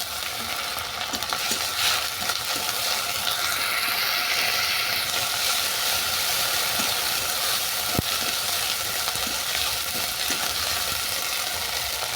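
Ginger garlic paste fries with onions in a hot pan, a dense continuous sizzle with occasional sharp spoon scrapes and clicks, close and steady, no talking.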